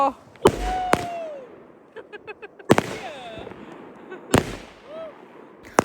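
New Year fireworks burst in the distance: several sharp cracks and thuds at irregular intervals, with rapid small pops between them, over faint background voices and whistling rockets.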